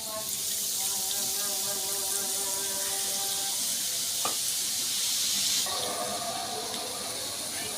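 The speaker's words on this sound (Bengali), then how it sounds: "আমি এই পর্যায়ে চাকরিটা ধুয়ে নিচ্ছি, ধুয়ে আবার ভালো করে মুছে নিয়ে" A slotted strainer ladle rinsed under a running kitchen tap while making bundiya, with water streaming and splashing steadily and close by the whole time, with no talking.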